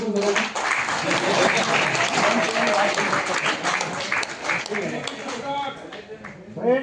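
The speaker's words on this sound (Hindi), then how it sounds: "इनके लिए जोरदार तालियां" Audience applause at a quiz during an ISKCON temple training programme in Delhi: dense, steady clapping fills the room for several seconds while a voice talks over it, thinning slightly near the end.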